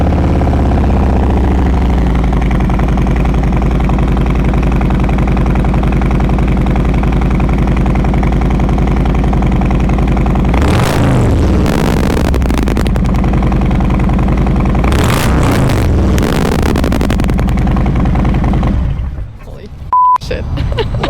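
Big V-twin engine of a 2018 Harley-Davidson Road King Special idling with a deep, loping low rumble, then blipped in two sharp revs before settling and cutting off near the end; loud and close with no talking.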